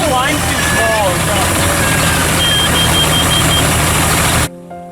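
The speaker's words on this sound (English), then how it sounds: "Now the darn beeper's gone off, signaling it needs another drink of oil." An oil warning beeper sounds from a boat engine in a series of short, steady electronic tones over the loud running motor on a saltwater fishing outing, close by, before the engine noise cuts off abruptly.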